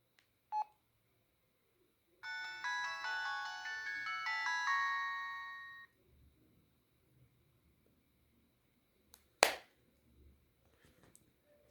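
A phone ringtone plays quietly through the handset's small built-in speaker: a short melodic burst of bright electronic tones lasting a few seconds, with soft clicks and handling taps before and after.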